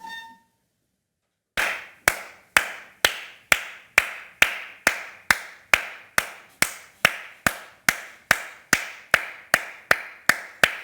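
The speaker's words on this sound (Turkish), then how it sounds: "İşte bu alkışlarım ona. Ayakta alkışlıyorum." Standing applause from a single pair of hands, sharp, evenly spaced claps repeating steadily and close, alone without voices.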